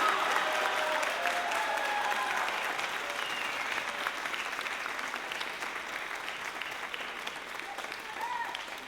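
An audience applauds steadily at a high school spring band concert award presentation for a symphonic band member, a dense, even wash of clapping that fades only slightly over nine seconds.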